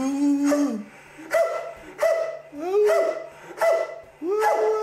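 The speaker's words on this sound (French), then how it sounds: "C'est quoi ce gros chien, là? Avec ta petite voix." A large dog gives a run of high, whining barks and whimpers, about six rising-then-falling cries spaced roughly a second apart, close and clear with little background.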